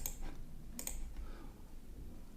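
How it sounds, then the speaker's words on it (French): Quick faint clicks come from numbers being tapped on a calculator: a few light, close taps in two short bursts over a quiet room hum. "Si on tape la calculatrice"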